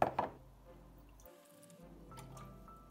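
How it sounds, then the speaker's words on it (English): Milk pours into a measuring jug in a home kitchen. It is faint, with a couple of splashy drips at the start and then a soft, quiet trickle. "pour your milk into your jug until the meniscus sits at the"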